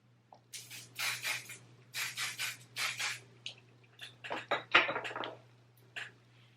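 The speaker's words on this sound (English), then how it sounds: "We're gonna go ahead and spray." Several short hissing bursts of hairspray in quick succession, close and fairly soft, separated by brief pauses against a low background hum.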